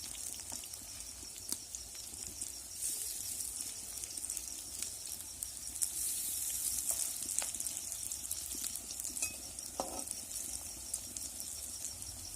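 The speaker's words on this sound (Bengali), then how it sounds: "এবার সবজির মিশ্রণটা আমি অল্প অল্প করে দিয়ে বড়ার মতো করে ভেজে নেব।" Cabbage and egg fritters fry in hot oil with a steady, soft sizzling hiss that runs throughout, broken by a few light clicks of a utensil.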